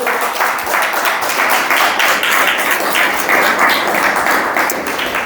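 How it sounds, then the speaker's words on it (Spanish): Members of a church congregation clap together during a service, a loud, sustained wash of many hands with a steady pulse running throughout. "Dale un aplauso al Señor con alegría"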